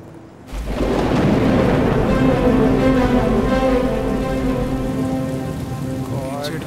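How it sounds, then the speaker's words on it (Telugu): Heavy rain in a film scene, starting abruptly after a short quiet moment and then pouring as a loud, dense, continuous roar with low rumbling underneath, easing only slightly toward the end with no speech. "ఈ వర్షం ఏంట్రా తగ్గట్లేదు?"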